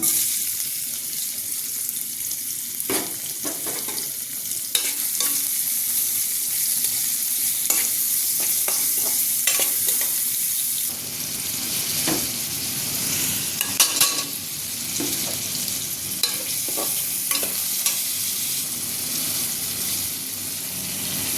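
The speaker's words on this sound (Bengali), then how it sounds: "এখানে আমি পেঁয়াজ আর রসুন পেস্টটা দিয়ে দিলাম।" Onion and garlic paste frying in a hot pan, a steady loud sizzle throughout with repeated scraping stirs of a spatula and occasional clinks, no talking.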